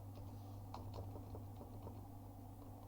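Computer keyboard keys pressed for a Ctrl+S save: a handful of faint, quick taps over a steady low hum, with no voices.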